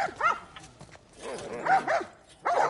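Dogs barking in the video game The Last of Us Part I: several harsh, close barks and yelps in quick bursts, with a short pause before a final loud volley.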